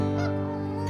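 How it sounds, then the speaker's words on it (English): Two Canada geese honk close by on a footpath, a dense run of loud, nasal, overlapping calls filling the whole moment. "there's these two Canada geese and they don't look like they want me to cross"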